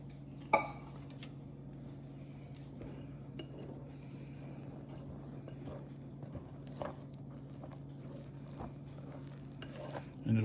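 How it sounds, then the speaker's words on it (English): Butter is whisked into flour for buttermilk biscuit dough, giving a quiet, continuous stirring scrape with occasional faint clinks of the whisk against the bowl. "we're gonna put this in here and we're gonna start whisking"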